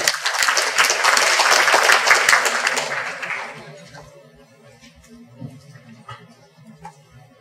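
Audience applause welcoming a speaker from the Ministry of Foreign Affairs at a youth working-holiday information session in Taichung: loud, dense clapping fills the first three and a half seconds, then fades to scattered claps over room noise.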